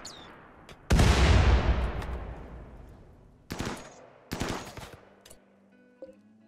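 Loud bursts of gunfire during a RimWorld raid crack out, one big blast followed by scattered volleys of rapid shots, with a faint tonal game soundscape behind them.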